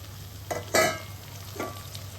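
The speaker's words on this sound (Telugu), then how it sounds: "ఉల్లిగడ్డలు అయితే మంచిగా ఇట్లా నూనెలో ఉడికిపోయినాయి" Onions and curry leaves frying in oil in a pan for upma: a low, steady sizzle with a few short stirring scrapes, close and moderately loud.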